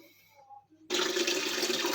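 Water rushes loudly into a toilet flush tank as the inlet opens after a quiet start, then pours steadily and broadband to the end, close and continuous.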